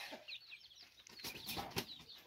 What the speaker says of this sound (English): And look at this. This is a cock. A big cock.